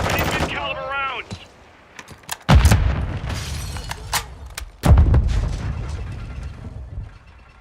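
Gunfire in Call of Duty Warzone 3 DMZ on the Al Mazrah map during solo shotgun play: a few loud, sharp shots with dense bursts of rapid fire around them, over game background noise and a brief synthetic radio-style voice near the start.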